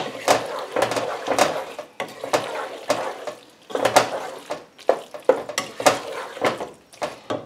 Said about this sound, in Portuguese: Vou mexer bem.